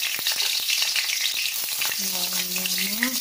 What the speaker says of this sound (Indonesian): Kemudian kita goreng tahunya sebentar juga.